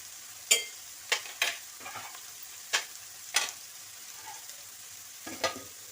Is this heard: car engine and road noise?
no